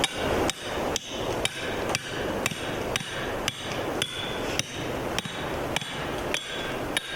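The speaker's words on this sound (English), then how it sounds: "We're using our ground talon stake, and we're going to drive that in the ground right here." A metal ground talon trap stake is hammered into the ground with a steady series of about a dozen sharp, loud hammer strikes, evenly spaced and close by.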